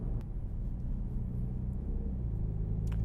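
A MINI Countryman's engine rumbles steadily while driving in normal drive mode, a continuous low hum with road noise, close and moderately loud, with no speech.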